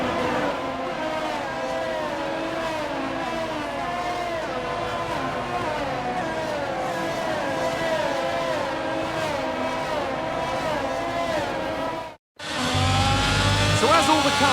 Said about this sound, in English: The formation lap gets underway and every driver will be looking to settle in for the race ahead